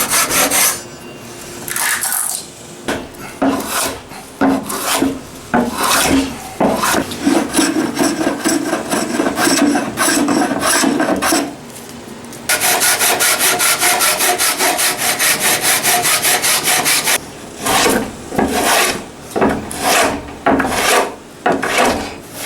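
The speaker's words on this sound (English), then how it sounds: "we can saw off the excess and keep going." A hand saw cuts off excess cedar wood inlays on a large Japanese planing board, rasping in repeated strokes at close range, with steady runs and short pauses between bursts of cutting.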